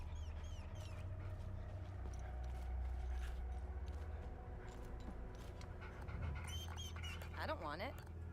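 A dog in Hell is Us panting and giving soft whimpers, faint and intermittent beneath a constant low ambient hum, with a few other scattered noises.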